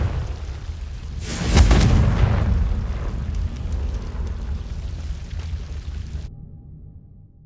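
A single Confringo fire spell erupts in Hogwarts Legacy, a loud burst landing with a deep booming blast that rolls on into a long fading rumble, heard alone without voices.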